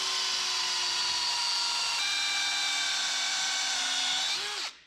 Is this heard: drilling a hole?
yes